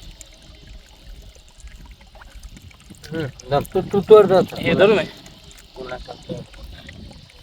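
Water splashes and trickles as soil is rinsed off freshly harvested green fenugreek in the field, bursts of pouring rising and falling in the middle, while a person speaks briefly.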